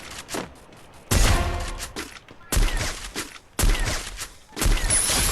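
Gunfire in a shooter video game comes in four or five loud, rattling bursts of rapid shots, each about a second long, separated by brief quieter gaps.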